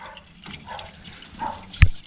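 Clear coolant being topped up into an engine, a brief quiet liquid trickle with a sharper splash near the end, close by.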